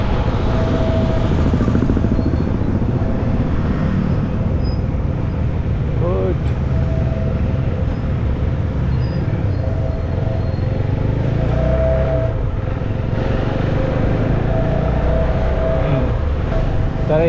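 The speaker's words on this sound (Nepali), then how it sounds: "यो बाइक कुदाउन चाहिँ मजा आउने रहेछ" A motorcycle is ridden along a road toward Taudaha Lake, its engine droning steadily and loudly throughout with constant wind and road rumble.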